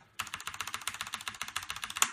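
Fast, steady typing on a Logitech G610 Orion Red mechanical keyboard, with close, crisp keystrokes in an even rhythm and a slightly louder final key press, no voices.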